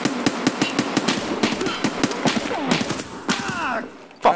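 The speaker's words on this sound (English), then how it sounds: "there's bullets flying through everywhere" Rapid bursts of automatic gunfire crackle close and loud in a tactical shooter firefight, repeated shots layered with whizzing bullets and impacts, with a faint voice briefly under the racket.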